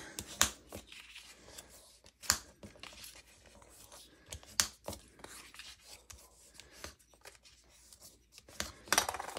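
A bone folder rubs along scored paper fold lines, giving short, separate dry rasping strokes spaced a second or two apart, close and fairly quiet.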